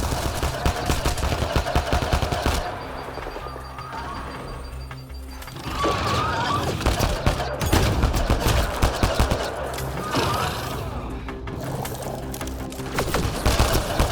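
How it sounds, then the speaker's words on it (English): Rapid automatic gunfire and bursts of shots from the video game Mass Effect Andromeda, loud and continuous with overlapping weapon fire and game effects, with brief pauses between volleys. "Enemy fire!"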